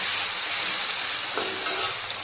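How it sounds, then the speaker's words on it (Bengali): Potatoes frying in a pan for a breakfast dish, a steady close sizzle with occasional stirring sounds, no voices. "আর এখানে ভাজছি আলু ভাজা"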